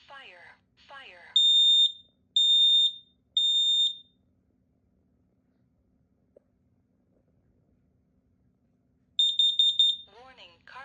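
A large smoke alarm gives three loud, piercing electronic beeps, then a long silence and another beeping burst, with a recorded voice warning speaking before and after the tones.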